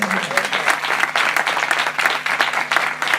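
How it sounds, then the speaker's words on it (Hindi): Enthusiastic audience applause for Brother Liyas at a gospel gathering, sustained crowd clapping with a steady fluttering texture and a faint low tone underneath. "भाई लियास के लिए जोरदार तालियां बजाएं"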